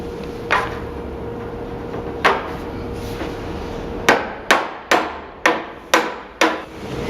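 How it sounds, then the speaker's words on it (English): A mallet drives wooden bed frame pieces together during assembly, a few spaced knocks followed by a quick run of five sharp, close blows. "take my mallet and then drive those home"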